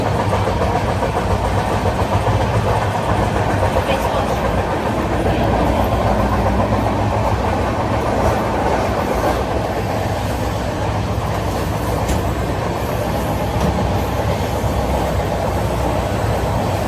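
A long-distance train from Mumbai to New Jalpaiguri rolls along the rails with a loud, continuous rumble and rhythmic clatter, heard from inside, steady for the whole stretch.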